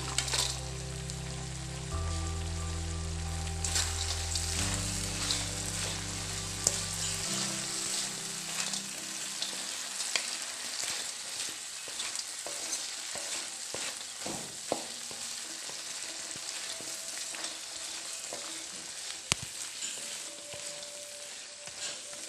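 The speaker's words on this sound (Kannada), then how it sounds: "ಫ್ರೈ ಮಾಡ್ತೀನಿ ಜೀರಿಗೆ" Cumin seeds frying in hot oil give a dense, continuous crackling sizzle with tiny popping bursts, close and steady throughout, no voices.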